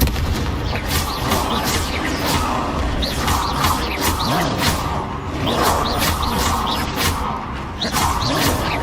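A dense barrage of spell effects from Hogwarts Legacy, Confringo blasts and Expelliarmus casts, booming and whooshing without a break. The loud, layered combat noise continues for the whole stretch.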